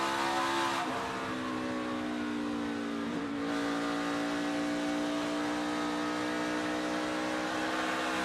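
A NASCAR O'Reilly Auto Parts Series race car, number 21 driven by Austin Hill, runs a qualifying lap at Rockingham. The engine drones loud and steady at high revs, with slight pitch shifts through the corners, and no voices over it.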